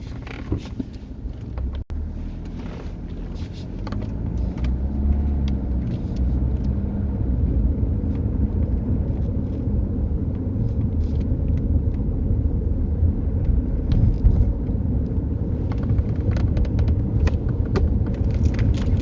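A car moves off and keeps driving during a UK mock driving test, heard from inside as a steady low engine and road rumble with faint rattles and clicks throughout.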